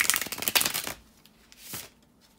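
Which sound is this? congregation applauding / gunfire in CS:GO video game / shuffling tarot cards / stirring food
shuffling tarot cards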